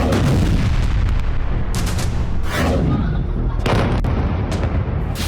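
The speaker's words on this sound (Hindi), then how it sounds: "डोनेस्क में कई जगहों पर धमाके हुए" Repeated heavy booms and blasts from drone attacks in Donetsk, loud and rumbling, arriving in irregular bursts over a continuous roar of noise.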